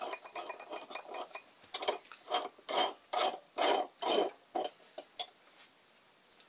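A Sloan Naval flushometer valve has its cap unscrewed by hand, a series of rasping, scraping metal-on-metal turns that grow louder in short rhythmic bursts, close up and with no talking.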